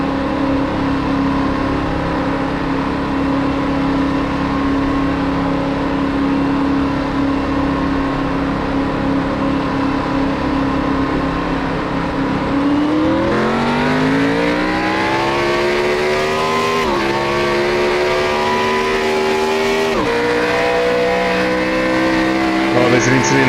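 Race car engines hold a steady drone under caution, then surge and climb through repeated upshifts as the ANZCAR field takes a restart at Phoenix, loud and close with rising, stepped pitch.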